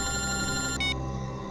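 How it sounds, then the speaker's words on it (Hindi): A phone rings with a steady, bright electronic tone, loud and close, without any talking over it. "एसीपी साहब का फोन?"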